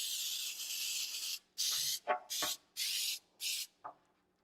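Cooking spray hisses into a dressing pan for baking in a long opening burst, then four shorter bursts in a steady rhythm, loud and close with nothing else around.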